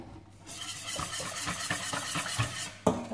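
A spoon stirs a date and milk dessert mixture in a pot, giving a continuous swishing and scraping with light clinks against the sides and one louder knock near the end.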